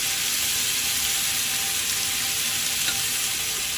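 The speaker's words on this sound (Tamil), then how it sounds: "இப்போ ப்ரான் ஃப்ரை ஆகிட்டுருக்கு." Prawns frying in a pan for prawn biryani, a dense, continuous sizzle heard up close, steady and loud throughout with no voices over it.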